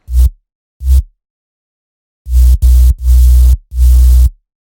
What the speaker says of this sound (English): my sub bass sounds like this